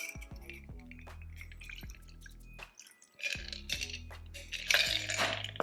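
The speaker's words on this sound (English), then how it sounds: "Strain it over a big cube we have here today." A cannabis old fashioned cocktail strained over a single big ice cube in a glass: a thin trickle of liquid with small clinks and taps of glass and ice, a brief pause, then a brighter splash and louder pour, all close and fairly quiet.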